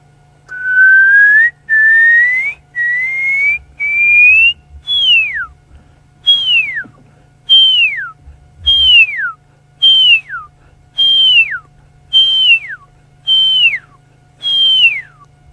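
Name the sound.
person whistling to imitate a bird call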